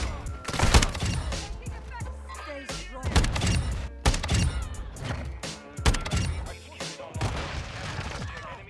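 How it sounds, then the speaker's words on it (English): A flash grenade goes off in a Modern Warfare 2019 multiplayer match: sharp, punchy bangs and thuds mixed with rapid bursts of close gunfire in an irregular rhythm. "Did I die to that flash grenade?"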